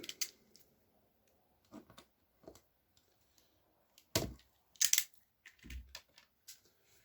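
A plastic lid is cut with a large cutter during a tabletop wargame bunker build, giving a few sharp, isolated snips and clicks separated by quiet gaps; close and fairly faint, with no talking.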